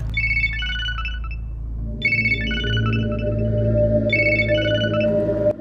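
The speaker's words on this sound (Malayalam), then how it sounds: "റിങ്ങും പോകുന്നുണ്ട്, ആരും എടുക്കുന്നില്ല" An outgoing phone call rings unanswered, the ringback chime repeating in bursts about every two seconds over a steady low musical drone.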